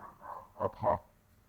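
A dog gives two quick, moderately faint barks in close succession, then falls quiet.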